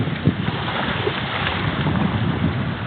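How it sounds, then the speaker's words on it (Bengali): Strong wind blows across a sea beach crowded with ships, a dense rushing roar buffeting the microphone, with the low wash of waves beneath it and no voices. "আপনারা শুনতে পাচ্ছেন বাতাসের শব্দ"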